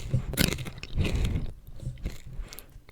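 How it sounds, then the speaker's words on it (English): Crisps crunched close to a microphone, a run of loud, crackly bites and chews in quick bursts that thin out toward the end. "I'll show you my crunching"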